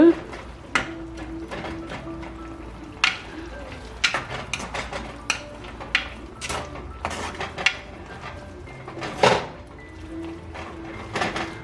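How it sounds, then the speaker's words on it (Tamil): A spoon stirs Sinhala-style cashew curry in a cooking pot, giving a string of close metallic scrapes and clunks at an uneven pace, with a quieter lid-like thunk near the end. "இதை நல்லா கிளறி போட்டு திருப்பி மூடிட்டு"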